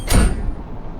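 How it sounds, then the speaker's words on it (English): Train doors slide shut as a sound effect, a single loud whooshing thud that fades into a low rumble. "Sound effects, the train doors closing."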